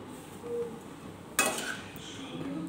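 Egg fried rice tossed in a pan with leftover coriander, giving a sharp spoon-on-pan clatter followed by softer scraping and stirring over a low kitchen background.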